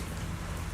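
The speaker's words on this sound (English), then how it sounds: "don't stand out here in the rain" Steady rain pours continuously in the video game Zenless Zone Zero, a dense, even hiss of falling water with no voices.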